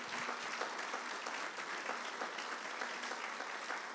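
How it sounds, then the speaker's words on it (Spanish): Steady applause from a church congregation fills the room, a dense, even patter of many hands clapping at moderate distance without pause. "Un aplauso para ellos, por favor."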